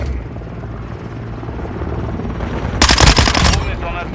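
Game helicopter-like drone rotor drone in Call of Duty Modern Warfare II multiplayer, a steady low buzz throughout, joined by a loud burst of rapid gunfire near the end.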